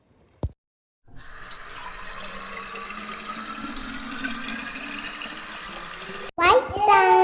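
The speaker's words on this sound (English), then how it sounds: "You can wash your hands now." Tap water runs steadily into a kitchen hand-wash sink for several seconds during handwashing, a constant close hiss that stops briefly before someone speaks over the end.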